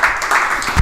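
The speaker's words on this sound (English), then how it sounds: "how about a big round of applause for our athletic director, Mr. Lonnie Allen" A crowd at a school sports radio event applauds the athletic director, a brief burst of loud, dense clapping close by.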